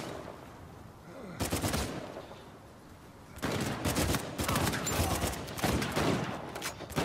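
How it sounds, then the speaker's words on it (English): Rapid bursts of gunfire from the Uncharted 4 video game: sustained automatic fire in two long volleys with a brief lull between, loud and close against a low background rumble. "I gotta shoot this dude, I gotta shoot this dude."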